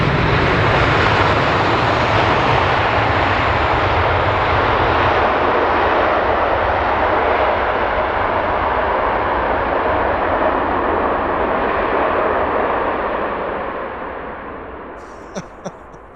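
A Virgin Dreamliner airliner lands at Heathrow, its loud, broadband engine roar sweeping past continuously before tailing off near the end, with a few faint knocks as it fades.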